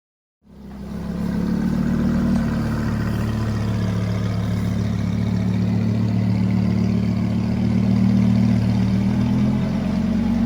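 Lamborghini engine starting up and then running at a steady, deep idle, a loud low rumble holding constant for about ten seconds with no voices.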